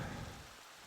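Rain pours in a Minecraft world with a low rumble of thunder rolling at the start and fading within a second, dense and steady, no talk.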